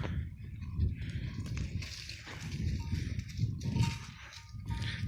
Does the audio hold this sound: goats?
yes